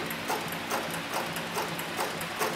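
A Cowboy industrial sewing machine driven by a variable-speed servo motor stitches soft leather at its slowest speed, with steady evenly spaced mechanical clacks about every quarter second over a constant motor hum, close and clear.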